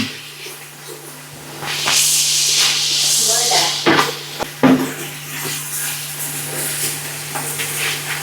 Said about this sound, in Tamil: பாருங்க, வதங்குதல் கொஞ்சம் நல்லா வதங்கணும்.